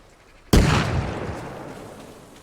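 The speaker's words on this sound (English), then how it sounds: "I can hear him popping a grenade" A grenade detonates in the military shooter Arma Reforger, one sudden loud boom followed by a long rumbling decay that fades over about two seconds, with no voices.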